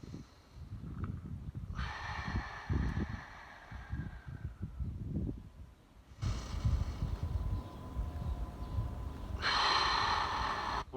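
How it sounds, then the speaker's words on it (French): Deep inhaling and exhaling during a floor back exercise, forehead on the ground and palms facing up, heard as a few slow, close, audible breaths with soft rustling and no talk. "on inspire et on expire"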